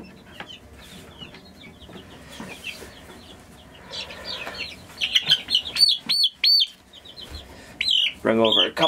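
Baby chicks chirp in a brooder, with high repeated peeps coming in bursts, near and clear, louder toward the end, while a person talks quietly in the background.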